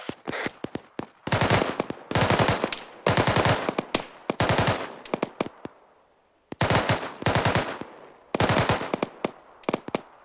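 .50 caliber machine gun firing during a military training exercise, loud rhythmic bursts of rapid shots repeated in groups with short pauses, close and dominant, with no talking.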